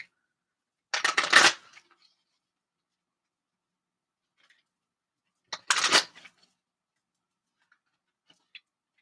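Two brief, crisp riffles of Queen of the Moon oracle cards being shuffled, several seconds apart and close by, with near silence between them.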